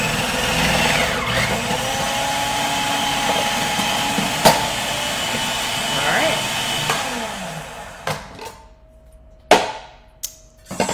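Food processor slicing butternut squash and vegetables in a home kitchen, a steady loud motor whir with chopping clatter for about eight seconds, then stopping into a few sharp knocks and thuds.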